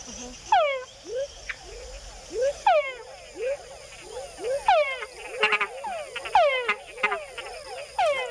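Male frogs call in a Panama forest, a chorus of repeated descending whines with added short chuck notes, several callers near and far over a faint insect hum.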